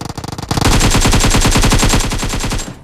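Automatic gunfire in BGMI, the mobile battle royale game, a few scattered shots building into a loud, rapid, sustained burst that stops after about two seconds, close and without talk.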